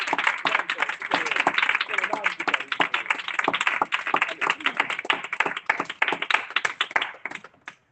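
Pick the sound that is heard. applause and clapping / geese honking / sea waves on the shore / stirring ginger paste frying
applause and clapping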